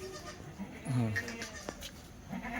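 Kathiawari goats bleat in a few short, loud calls close by, with a strong cry about a second in and a shorter one near the end, while someone talks over a busy farmyard background.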